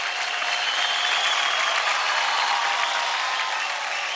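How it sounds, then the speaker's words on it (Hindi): A studio audience on a Dance India Dance Season 3 episode applauds a dancer, producing a continuous wash of moderate clapping that holds steady for the whole stretch without any voices. "जोरदार ताली हो जाए क्रॉकरोच के लिए"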